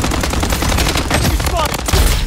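Rapid, loud automatic gunfire bursts continuously in the shooter video game Blood Strike, a dense stream of close shots throughout the short stretch.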